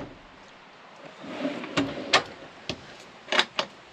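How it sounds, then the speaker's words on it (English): A cutlery drawer in a Fiat Ducato camper van slides and clatters shut a few times, with sharp knocks and rattles of metal cutlery inside, close by in a quiet room. "We've got a cutlery drawer."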